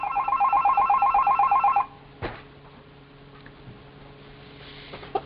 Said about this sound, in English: I think that's a wake-up call, that bell ringing like that.